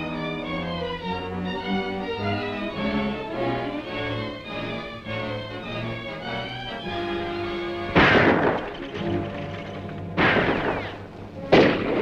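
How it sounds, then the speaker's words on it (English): Gunshots fired toward old adobe ruins in a western film, sharp loud cracks arriving near the end after a stretch of orchestral music. "Dixie, Frank, throw a couple of shots down there to hold his interest."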